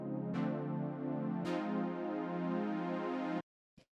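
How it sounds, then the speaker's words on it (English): A soft synth pad voicing major and minor 7th chords, sustained sounds with a chord change partway through, ringing alone before cutting off abruptly, followed by a brief faint tail. "the first layer I'm going to be showing you is this little kind of pad thing from the intro"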